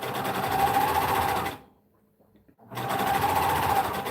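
A sewing machine runs in a fast steady whir, stops for about a second, then starts stitching again at the same pace.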